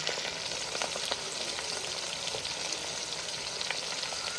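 Stuffed bitter gourds (karela) fry in hot oil in a pan, a dense, steady crackling sizzle up close with scattered sharp pops throughout and no talking.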